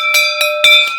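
A bell on a comedy show stage rings out in quick struck tones, three or four sharp hits with sustained metallic ringing between them, loud and close, with no talking over it.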